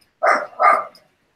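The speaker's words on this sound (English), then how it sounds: "that's my dog." A gripey pet dog lets out two quick, close barks in a row, loud and clear against an otherwise silent background.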